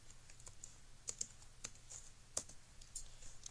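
A laptop keyboard, a Lenovo 500 Series running Ubuntu 12.04, is typed on to enter a sudo terminal command, producing a quiet, close run of irregular key clicks with a few sharper taps and no talk.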